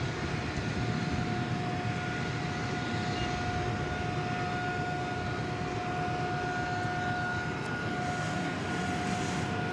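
Air Canada airliner at DFW airport, a steady distant jet engine roar with a constant whine, unbroken for about ten seconds at even loudness.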